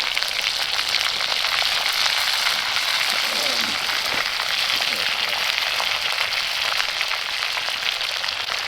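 Potatoes, onion and garlic frying in a pan over a camp stove in a hot tent in a snowy winter woodland, a loud, dense, continuous sizzle with a faint scrape partway through.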